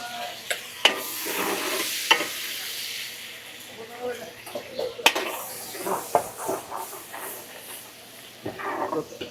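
Garlic and chili fry in a pan for a spicy wings sauce, sizzling and hissing while a utensil stirs and clacks against the pan, with a voice at times.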